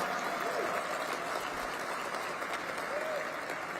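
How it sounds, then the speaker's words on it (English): Audience applause at a DC Public Education Fund awards event, a steady wash of many hands clapping that runs evenly for the full length at a moderate, slightly distant level. "Please give yourselves a big round of applause."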